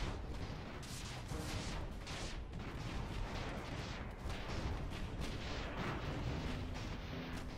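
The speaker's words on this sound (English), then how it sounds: "There's so many rockets just flying at them." Rockets and artillery firing in the airship battle game Airships: Conquer the Skies, a dense, continuous barrage of booms and bursts, faint and distant-sounding with no talk.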